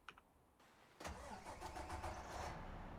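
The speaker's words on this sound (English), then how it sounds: "Let's get the truck going." A truck engine in American Truck Simulator cranks with a brief starter whir, then catches and settles into a loud, steady rumbling idle that continues alone to the end.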